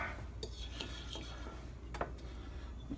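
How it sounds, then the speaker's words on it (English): A utensil stirs food in a pot with low-sodium soy sauce, making scattered clinks and scrapes against the metal over a low background hum, with no voices. "And then we're going to stir this up."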